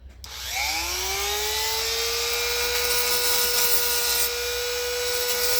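A power tool spins up with a rising whine and then holds a steady, loud grinding tone while a Stihl HLA 65 and HLA 86 hedge trimmer's blades are sharpened. No voices are heard.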